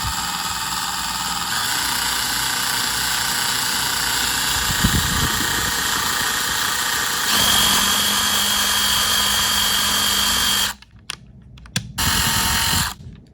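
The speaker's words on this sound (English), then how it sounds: "I'll continue and drill the remaining 7 holes." A power drill whirs steadily for several seconds drilling half-inch-deep pilot holes in the wood of a Craftsman workbench, its motor pitch shifting as it bites in, then stops in short bursts near the end.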